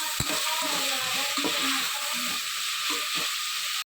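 Tomato, onion and green chili fry in a pan for a gravy, giving a loud, steady sizzle and hiss with irregular scrapes and knocks of stirring.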